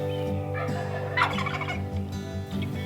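A wild turkey gobbles loudly in a rattling burst over a steady engine-like hum in Kansas, with a softer gobble near the end.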